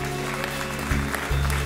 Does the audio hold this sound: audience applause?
yes